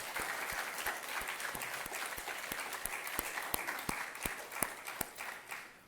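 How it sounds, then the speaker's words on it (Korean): A Sunday morning church congregation gives God a round of praise applause, many hands clapping in a strong, regular beat with sharp unison claps cutting through a continuous crowd clatter, sustained for several seconds. "영광의 박수로 올려드리도록 하겠습니다"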